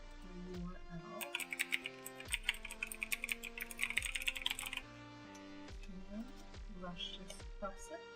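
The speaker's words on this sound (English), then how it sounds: "We're going to type Google" Close computer-keyboard typing as a web address is entered, with quick clusters of key clicks in an uneven rhythm and slower taps toward the end, heard alone.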